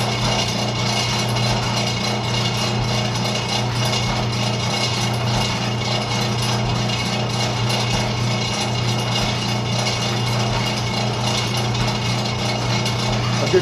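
A Foley Belsaw 387 sharpener runs on a sawmill band saw blade, a steady mechanical drone with a low motor hum and continuous grinding and clattering, close and even throughout without speech.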